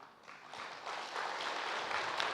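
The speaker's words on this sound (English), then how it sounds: "Full clap once again." An audience at a welcome session at Gyan Sarovar, Mount Abu, claps steadily in a dense, even patter that builds slightly and holds at moderate, somewhat distant loudness.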